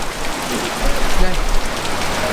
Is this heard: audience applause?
no